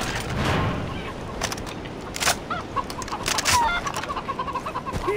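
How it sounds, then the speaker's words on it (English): A chicken in the video game Far Cry 3 clucks in scattered short bursts over steady rustling ambience, growing busier and more rapid toward the end. "That's a chicken."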